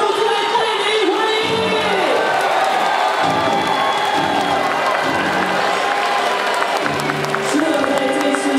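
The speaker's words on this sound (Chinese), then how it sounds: "我们掌声！" Stadium crowd at a Chinese Professional Baseball League game at Xinzhuang Baseball Stadium applauds the MVP after a 7-2 win, steady dense clapping and cheering with scattered whoops throughout, and an announcer talks over it.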